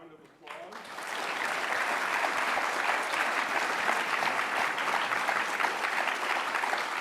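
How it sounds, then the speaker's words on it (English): A symposium audience marking the 80th anniversary of the war's end breaks into sustained applause, rising quickly after a brief quiet moment into a dense, steady wash of many hands clapping that holds at full strength. "Well, let's have a round of applause."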